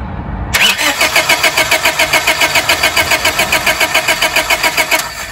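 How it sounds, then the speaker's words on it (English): A starter cranks a 1997 Honda Civic 1.6L D16Y7 engine in a steady, fast rhythmic churn that runs for about five seconds without catching. It is loud and close, with no talking. "I'm going to turn the starter, and we should see a spark come off of this coil"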